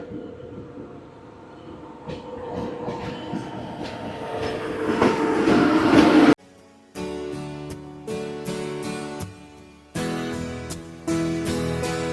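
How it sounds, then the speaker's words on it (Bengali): The Radhikapur Express pulls into platform one with a loud, rising rumble of wheels and carriages nearby, then gives way to rhythmic clicking and clattering of railcars at close range. "এ হচ্ছে আমাদের রাধিকাপুর এক্সপ্রেস আমাদের ট্রেন ঢুকে গেছে এক নম্বর প্ল্যাটফর্মে"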